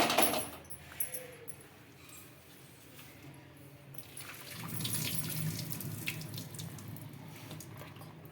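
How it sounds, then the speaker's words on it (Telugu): Cold water runs from a tap into a vessel, a steady rushing stream that grows fuller partway through, with faint clinks. "అందుకని చన్నీలు వేసేసాను వెంటనే"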